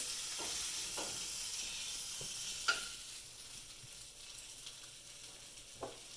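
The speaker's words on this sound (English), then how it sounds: "you can see it's kind of starting to sizzle a little bit" Steady sizzling of bacon frying in a pan, a constant crackly hiss with occasional sharper pops and light clicks, close by and without talk.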